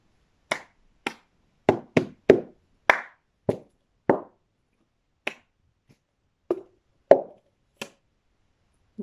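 Cup song rhythm on a floor: sharp hand claps alternating with hollow taps and knocks of a cup struck against the floor, about a dozen crisp, close hits in an uneven beat with short gaps between them.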